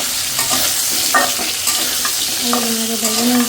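Potatoes and meat fry in a pan under a soft, continuous sizzle while a utensil stirs and scrapes them, close by, with faint background hums and no clear talk.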